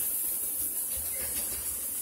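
A turkey burger patty sears on a hot home cooker, giving a soft, steady sizzling hiss that stays faint and even throughout with no voices.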